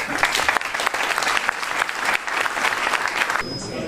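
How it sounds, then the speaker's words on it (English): Audience applause at the Agile Tour 2016 conference keynote in Bordeaux, a loud, sustained burst of many hands clapping in a hall that holds steady before cutting off abruptly near the end. "Donc merci d'applaudir Paul Stack"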